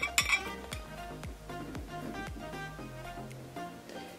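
A spoon clinks repeatedly against a bowl while two spoonfuls of seed powder are added, a run of bright, ringing metallic taps at an uneven rhythm, close and fairly quiet, with no talking.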